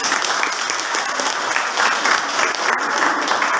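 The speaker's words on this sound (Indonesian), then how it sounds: "Tepuk tangan dulu untuk si Chelsea." A classroom of students claps together, a dense, steady round of applause that holds at an even level throughout, with no voices standing out.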